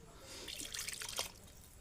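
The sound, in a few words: water poured into cooking pot of horse gram curry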